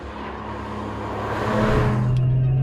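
An Audi RS 4 Competition on a race track, its engine droning steadily and rising in pitch and loudness as the car accelerates.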